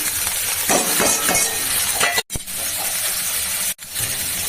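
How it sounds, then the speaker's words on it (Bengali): Cabbage and potatoes tumble into a hot pan of soybean curry, setting off a steady loud sizzle and hiss with faint clinks of a utensil, briefly broken twice by short silences. "এবার বাঁধাকপি আর আলুটা দিয়ে দিচ্ছি"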